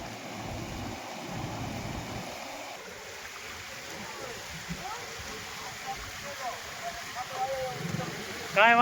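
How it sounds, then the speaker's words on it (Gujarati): A river swollen by heavy rain rushes between two villages, a steady broadband wash of flowing water that stays fairly quiet and even throughout, with louder low rumble early on and people talking in the background. "દેરાડા અને જાલી વચ્ચેનો આપણે વચ્ચેની આ નદી છે."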